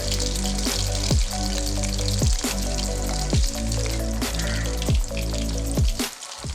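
Squid pieces sizzle steadily in hot oil over a medium flame, a constant hiss of frying that runs under louder rhythmic background music for the whole stretch.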